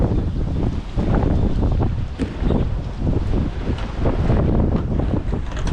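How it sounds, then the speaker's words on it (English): Strong wind blows across open water during Easter kayak fishing in rough weather, a loud, constant roar of buffeting on the microphone with splashing wave noise underneath, filling the whole stretch without pause. "Oh shit! This wind."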